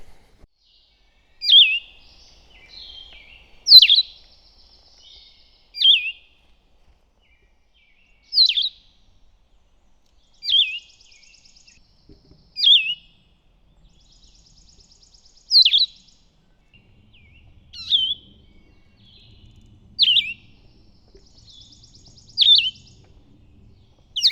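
Bird songs recorded on the Appalachian Trail: short, clear high-pitched phrases repeat about every two seconds, alone against a near-silent background.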